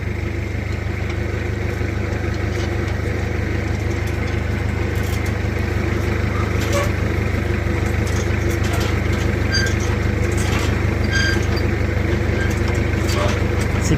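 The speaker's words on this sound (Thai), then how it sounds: "ผมมีรถไถ" A tractor engine runs steadily and close by throughout, a loud continuous mid-to-low rumble at a well site, with someone talking over it.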